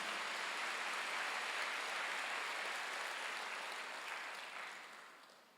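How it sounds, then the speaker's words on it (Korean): Church congregation applause during a Sunday worship service, a soft, even hiss of many hands clapping at a distance that gradually fades away. "박수로 하세요."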